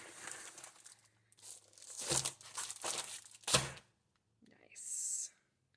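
Sheets of glossy and matte printer paper are handled and crinkled in several loud rustling bursts separated by short pauses, ending with a brief crisp crackle.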